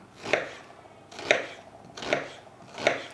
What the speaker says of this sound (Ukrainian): Для початку поріжемо цибулю дрібними шматочками.